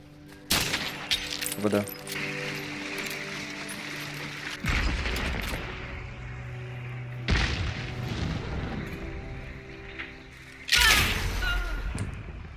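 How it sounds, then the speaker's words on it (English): Gunfire in the video game Hunt: Showdown, with several loud booming shots spread across the stretch, each ringing out with a rumbling tail, while people talk over them. "They were shooting someone."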